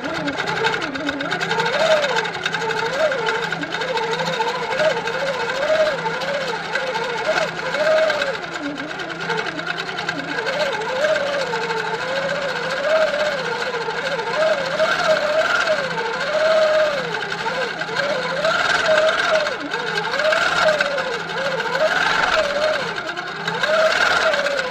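A sit-down longarm quilting machine stitches filler in continuous cruise mode at 400 stitches per minute and 12 stitches per inch, a steady close mechanical hum and whir with a wavering pitch as the fabric is moved, running throughout.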